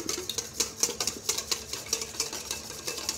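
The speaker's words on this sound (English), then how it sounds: "And then we're going to start to whisk." Whisk beating Dijon mustard in a bowl for homemade mayonnaise, a quick steady run of light metallic clicks and taps, close and fairly quiet.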